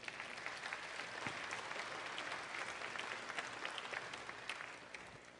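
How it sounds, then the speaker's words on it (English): Sustained applause from a large crowd of school district employees at a kickoff event, a dense, even wash of many hands clapping that holds steady throughout. "So give yourselves a round of applause."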